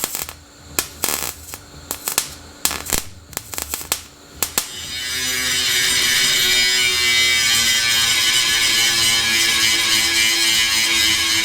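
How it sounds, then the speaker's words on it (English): Welding fills a rust hole in the A-pillar of a Ford Landau hardtop coupe. First come a series of sharp crackling bursts with short gaps between them, then a sustained loud buzzing hiss of continuous welding, close and alone. "Got a bit of hole here that we need to fill with weld"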